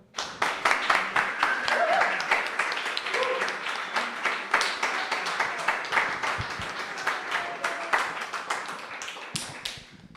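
Audience applause at the Premio Ostana award ceremony as a laureate is called to the stage, a dense, steady clapping from a crowd that holds for about ten seconds before thinning out.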